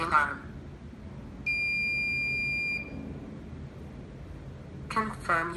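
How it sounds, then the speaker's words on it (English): A Nextion Mega eParrot device sounds a single steady electronic alarm tone for about a second, loud and clear over quiet background, with a person speaking briefly before and after. "I'm testing the alarm."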